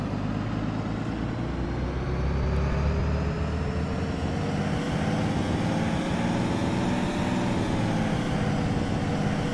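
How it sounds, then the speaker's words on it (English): A 2013 Thomas HDX school bus in the Rigs of Rods driving simulator, its engine droning steadily with a slow rising and falling pitch as it runs through gear changes, continuous and fairly loud with no voices. "Now the bus should be able to shift just fine."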